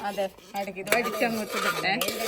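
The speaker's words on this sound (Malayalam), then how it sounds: "ഇതിപ്പോ ആ പാത്രത്തിൽ നിന്ന് ഞങ്ങൾ കുക്കറിലേക്ക് തട്ടിയിരിക്കുകയാണ്" Beef being scraped out of a pan into a pressure cooker gives a run of clattering metal scrapes and knocks against the pot, fairly close, with a voice speaking over part of it.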